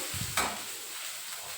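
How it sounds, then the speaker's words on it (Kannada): Onions and ginger garlic paste frying in a pan, a continuous close sizzle with a single sharp scrape or clink of a utensil early on, no talk. "ಈರುಳ್ಳಿ ಮತ್ತು ಶುಂಠಿ ಬೆಳ್ಳುಳ್ಳಿ ಪೇಸ್ಟು ಫ್ರೈ ಆದಮೇಲೆ"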